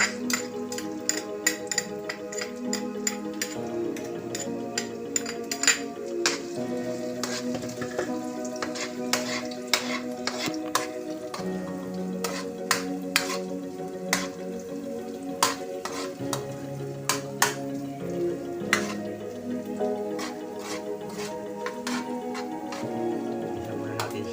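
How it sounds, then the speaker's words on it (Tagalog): Garlic and onion sautéing in a pan for macaroni sopas with corned tuna, a steady close sizzle with frequent stirring scrapes and clinks of the utensil throughout, and soft background music or hum underneath. "igisa natin yung bawang at sibuyas"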